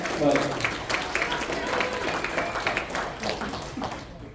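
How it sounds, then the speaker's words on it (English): Audience at a TFCon Chicago 2025 YouTuber panel applauding for the panelists, a steady wash of clapping from a crowd that holds for several seconds and tapers toward the end. "just give these guys a round of applause down here"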